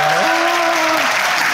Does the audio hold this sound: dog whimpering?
no